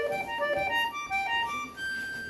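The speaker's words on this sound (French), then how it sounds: "C'est le son de la clarinette." An accordion, a bayan, played in its soft clarinet register, sustaining a few gentle, mellow reed notes at low volume alone with no voices.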